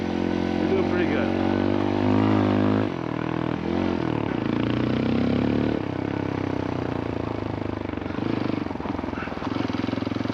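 A CF Moto Papio CL motorcycle ridden off road, its engine droning steadily and rising and falling in pitch with throttle changes, close and loud throughout, with a brief dip around the third second.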